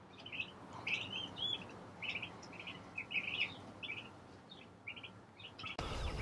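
Small chicks in a coop peep in quick, high-pitched bursts, many overlapping chirps repeating close by over a soft, steady background hum.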